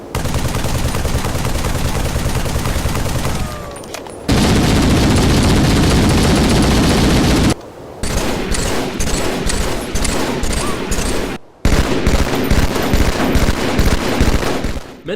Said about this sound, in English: Most sounded like electric BB guns, the assault rifle and battle rifle especially.